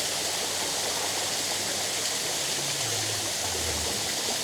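An artificial waterfall in a garden café with a fish pond gives a loud, constant rushing and splashing roar that fills the whole stretch, with no voices.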